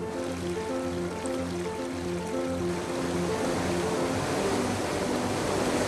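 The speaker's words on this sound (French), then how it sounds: "Les cours d'eau rapides sont plutôt rectilignes et s'écoulent rapidement vers l'extérieur du parc." A fast-flowing, straight stream runs through a historic German park, giving a steady, full rush of water that grows slightly louder partway through, with soft melodic music playing underneath.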